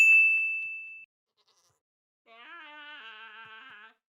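Goats bleating in the Minecraft video game, a wavering, tonal bleat lasting about a second and a half near the end. It follows a sharp bright ding at the start and a short silence.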